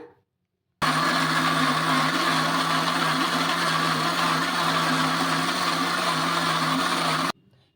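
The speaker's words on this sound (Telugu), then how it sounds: "కొంచెం వేసుకొని మిక్సీ అయితే పట్టేసుకుందాము మెత్తగా" An Indian mixer grinder whirs loudly and steadily for about six and a half seconds while grinding a thick batter for gunta ponganalu, starting and stopping abruptly with silence on either side.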